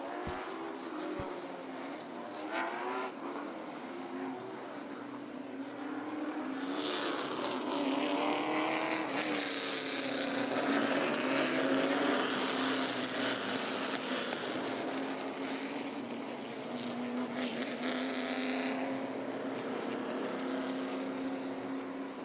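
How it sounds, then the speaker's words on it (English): Race cars circle Orange County Speedway in Rougemont, North Carolina, behind a pace truck, engines droning and swelling as the pack passes nearby, a continuous loud rumble with rising and falling whine, no talk. "Chargers on the racetrack. and following our pace truck around."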